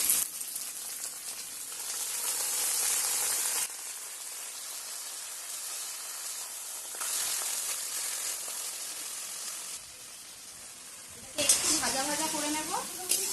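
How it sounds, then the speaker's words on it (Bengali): Boiled kharkol leaves frying in a pan give a close, continuous sizzle that swells and eases as they are stirred, with short scraping moments and a voice talking over it near the end. "এই যে এবারে ভাজতে ভাজতে একদম পুরো শুকিয়ে গেছে যতটা জল ছিল ততটা জল আর নেই"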